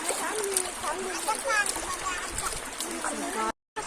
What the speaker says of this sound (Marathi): मस्त पाणी वाहत आहे